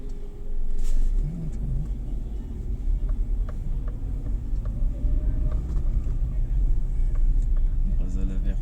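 Busy street traffic in Brazzaville, Congo, heard from inside a vehicle as a constant low engine rumble with passing cars and scattered distant noises, while people talk throughout.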